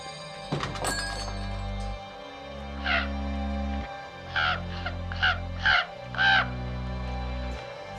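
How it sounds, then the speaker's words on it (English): A raven caws repeatedly, five or six harsh close calls spaced a second or so apart, over a low humming drone, preceded by a sharp thunk at the start. "It's a raven, my friend."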